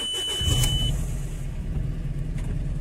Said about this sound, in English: Of course, the car's misfiring